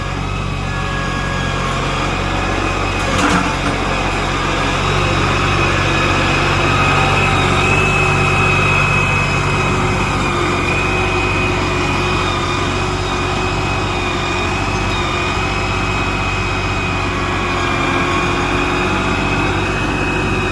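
A New Holland Workmaster 40 compact tractor with a box blade works through slick mud on a boat ramp, its engine running at a steady, close, continuous drone with a low rumble throughout.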